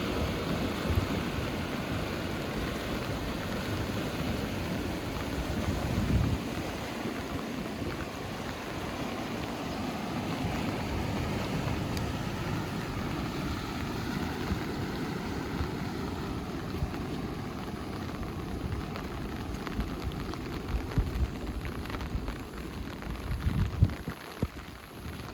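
Steady rain falls outdoors during a prolonged downpour, with water starting to flood the road. It makes a continuous, even hiss of drops with some wind rumble, and no talk is heard.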